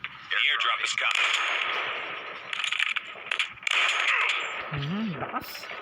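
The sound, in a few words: gunfire in Call of Duty video game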